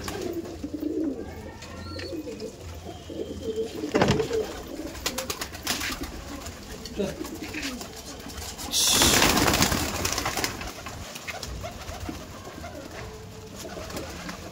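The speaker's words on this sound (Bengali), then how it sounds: "আপনাদের মূল্যবান কিছু ভালোবাসার পায়রা ওয়েট করছে আপনাদের ঘরে যাওয়ার জন্য" Pigeons coo in a loft where more than a hundred birds are kept by a family, with soft repeated calls across the whole stretch, a passing engine noise in the background and a louder burst of rustling midway.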